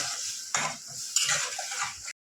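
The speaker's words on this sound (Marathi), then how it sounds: "थोडासा मसाला पण आपण आता कढईमध्ये शिजवून घेऊया थोडंसं तेलामध्ये" Spice paste cooks in oil in a wok: wet sizzling and scraping, with a couple of louder stirring bursts over a steady frying hiss.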